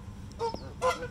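Two loud goose honks about half a second apart, nasal and brassy, standing out over a low outdoor rumble at Elk Grove Park.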